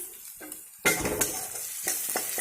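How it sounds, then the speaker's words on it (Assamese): Onions hit hot oil with a sudden loud sizzle after garlic, then keep frying and crackling steadily while being stirred. "এনেকৈ পিঁয়াজ আৰু নহৰুখিনি অকণমান ৰঙা হোৱালৈ ভাজি ল'ম।"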